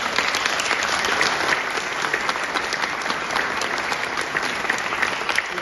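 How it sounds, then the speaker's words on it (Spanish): A seated audience at a book presentation with survivors of the Andes crash applauds steadily throughout, dense and sustained clapping filling the room at even loudness with no voices over it. "Deberíamos aplaudirlo, la verdad"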